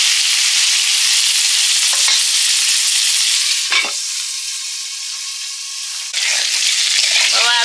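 Salted, turmeric-coated young jackfruit fries under a lid in a pan, giving a loud, continuous hiss that dips briefly midway and swells again, with a few metallic clinks, no talking.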